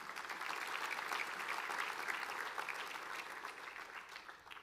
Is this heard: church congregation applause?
yes